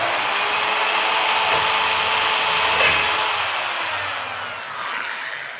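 A drill fitted with a 6 mm bit enlarges a hole in the body of an RC catamaran, giving a steady, close, whining grind that lasts several seconds and fades slightly toward the end, with no talk.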